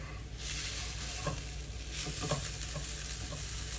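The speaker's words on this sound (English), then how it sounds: "Sounds crispy." Hash browns sizzle and crackle steadily in a hot pan, with a few scraping stirs and soft pops, close up and with nobody talking.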